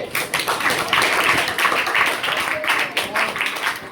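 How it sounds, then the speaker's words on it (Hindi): A quiz contest audience clapping, with a brief patter of applause from a small group in a room, fairly close and steady for a few seconds. "ताली के लिए"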